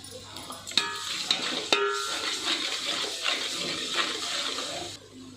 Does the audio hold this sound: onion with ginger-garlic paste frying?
yes